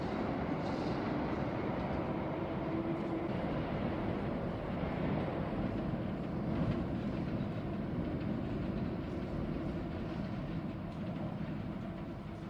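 Rumbling, continuous noise of a train at a platform, steady and fairly loud with wind buffeting, no voices.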